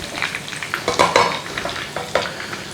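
Chicken cordon bleu coated in breadcrumbs fries in a pan, giving a close, busy sizzle with repeated crackling bursts and stirring clatter, and no one speaking.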